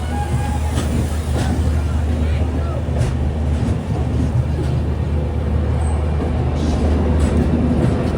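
The Navyug Express rolls into Hazrat Nizamuddin railway station with a steady, heavy low rumble and rattle of wheels and carriages, loud and continuous, with a voice speaking over it.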